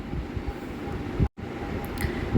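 Inside a moving passenger train, a steady rumbling roar of wheels on rails fills the carriage, with rhythmic clatter and a brief cut partway through.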